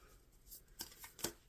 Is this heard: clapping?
no